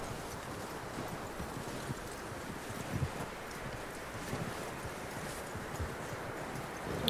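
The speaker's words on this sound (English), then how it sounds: "That looks like a decent horse." Horse hooves clip-clopping in the Red Dead Redemption 2 video game: soft, irregular hoof thuds over a faint windy ambience, fairly quiet and without talk.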